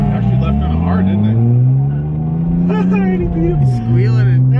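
A Nissan Skyline GTR accelerates hard with a rising engine drone and tire squeal, loud and close, its pitch climbing and dipping briefly near the end, while people talk over it.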